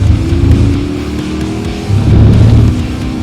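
A race car at the Le Mans 24 Hours: its engine note drops as it brakes for a corner, then surges back loudly as it accelerates away.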